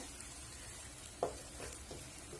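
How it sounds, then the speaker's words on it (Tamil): Beaten eggs poured into sizzling tomato-onion masala for kothu egg idiyappam, giving a steady hiss of frying with one brief soft splash partway through, close and fairly quiet. "ஒரு 3 முட்டையை நான் உடச்சு ஊற்றி வச்சிருக்கேன், அதை ஊற்றிக்கலாம்"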